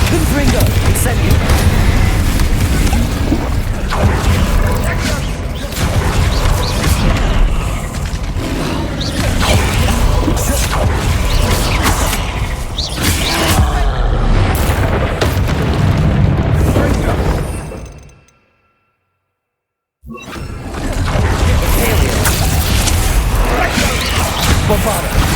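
Explosive spell blasts in the Hogwarts Legacy video game: a dense, loud wall of booms, bursts and whooshes layered with music and voice, running continuously before a brief silent gap and then resuming.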